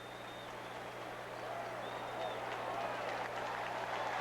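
A partisan home crowd roars at a 1983 St. Louis Cardinals football game against Dallas, a broad, steady wash of distant cheering that swells slightly, with a faint announcer's voice beneath.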